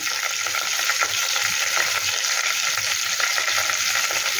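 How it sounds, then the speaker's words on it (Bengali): Cumin seeds and whole garam masala sizzle steadily in hot oil, a loud, close, continuous crackling hiss with faint stirring taps underneath, no voices. "ফোড়নে, জিরে দিয়ে নিলাম, আর দেবো গোটা গরম মশলা।"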